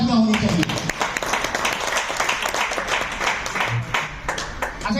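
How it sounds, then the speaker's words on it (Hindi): Loud audience clapping at a Hindi business talk, dense and steady for about five seconds, with voices and cheers mixed into the applause. "उनके लिए ये जोरदार तालियां होनी चाहिए"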